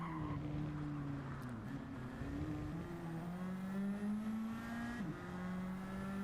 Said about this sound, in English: For a GT4 car, they sound pretty awesome